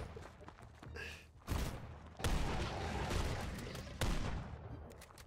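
Gunfire rattles through a video game battle in a swamp, with bursts of shots and thumps that swell and drop in loud waves, close and dense, with no clear talk over it.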